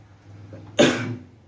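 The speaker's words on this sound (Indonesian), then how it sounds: "Batuk teman-teman." One sharp, close cough bursts out after a brief quiet moment and trails off quickly.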